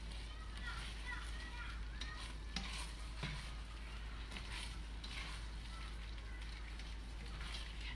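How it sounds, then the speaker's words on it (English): A thick honey and cornstarch sauce is stirred in a very hot pan, bubbling and sizzling steadily with repeated scraping strokes of the spoon, close and continuous while a person talks over it. "I like to keep it moving so that it doesn't burn at the bottom of the pan, especially since the pan is so hot."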